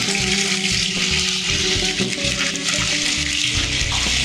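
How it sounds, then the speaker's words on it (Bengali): Marinated chicken pieces for chicken rezala hit a hot pan and sizzle in a loud, steady hiss that carries on without a break, close up and with no talking. "এতে আমরা চিকেন যেগুলো ম্যারিনেশনে বসিয়ে রেখেছিলাম সেই চিকেনগুলো আমরা ছেড়ে দিচ্ছি"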